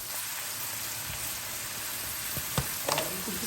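Chicken frying in a pan makes a loud, steady sizzle and crackle close by, broken near the end by a few sharper clinks and scrapes of stirring.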